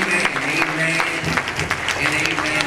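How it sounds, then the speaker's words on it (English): A church congregation applauds the children at a pre-installation service, continuous clapping with crowd voices mixed through it. "Can we give those children a hand clap?"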